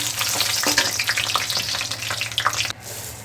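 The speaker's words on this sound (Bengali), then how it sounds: "শুকনো লঙ্কা তেজপাতা ফোড়ন দিচ্ছি" Dry red chillies and bay leaves crackle and sizzle loudly in hot oil for a Bengali tempering, a dense close spitting that drops suddenly to a softer hiss near the end.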